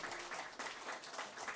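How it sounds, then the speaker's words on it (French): Audience in a church applauding, a steady, fairly soft patter of many hands clapping together, continuous with slight surges, heard alone without speech. "Applaudissez, allez."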